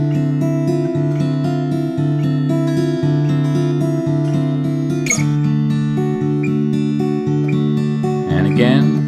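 Fingerstyle acoustic guitar playing the opening riff of a song, with repeated picked notes over sustained ringing bass tones, loud and close, alone with no talk.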